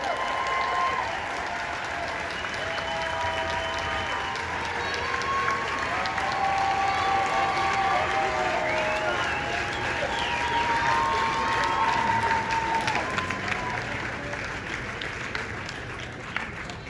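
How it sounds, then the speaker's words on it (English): Sustained crowd applause and cheering at The Walking Dead panel at San Diego Comic Con 2022, a dense, steady wash of clapping from a large hall audience with scattered shouts and some voices mixed in throughout. "Please, huge round of applause."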